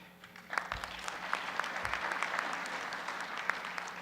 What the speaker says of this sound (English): You guys don't have to clap after everything I say.